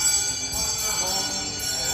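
A bell struck at a Hong Kong temple rings with a sustained metallic tone that hangs through the moment, with faint background voices around it.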